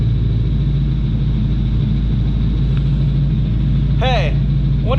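A 2007 Dodge Charger SRT8 with a swapped-in 6.1L engine runs during a transmission test, giving a steady, close, low rumble throughout. A brief rising whoop comes near the end, and voices are present.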